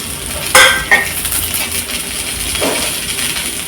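Coconut and onions fry for chicken kulambu in a steady, bright sizzle, broken by a couple of sharp metallic clinks from a stirring utensil. Close and fairly loud throughout.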